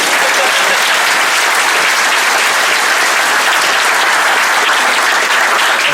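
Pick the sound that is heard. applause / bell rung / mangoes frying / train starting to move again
applause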